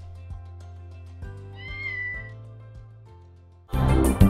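A kitten gives a few thin, high meows over soft background music, ending in a sudden louder burst of sound.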